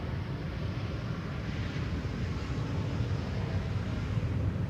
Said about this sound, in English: E2 Embraer.